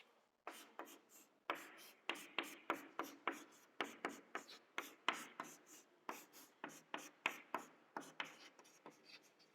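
A pen scratches steadily across paper in close, rhythmic strokes with short pauses, as chemistry products are written out by hand, with no talking.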